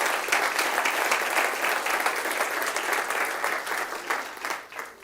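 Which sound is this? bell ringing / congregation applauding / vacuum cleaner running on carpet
congregation applauding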